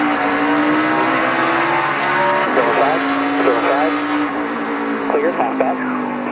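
NASCAR Xfinity Series race cars circle Phoenix International Raceway in 2017, a loud sustained engine drone with shifting pitch as cars pass, under continuous commentator talk.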